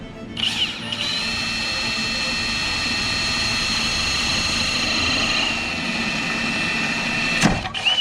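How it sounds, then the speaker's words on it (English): A power drill runs steadily at a high whine for several seconds, biting slowly into steel sheet metal on a 1970 Nova, then cuts off briefly before a short final burst. "with steel you don't have to go fast with the drill"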